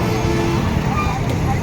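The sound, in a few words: car driving past on a road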